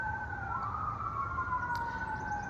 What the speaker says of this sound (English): a lot of sirens today during this eclipse